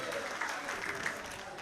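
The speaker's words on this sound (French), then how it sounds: "On s'applaudit très très fort." Audience applause at a children's holiday talent contest, steady dense clapping at moderate level with faint voices mixed in.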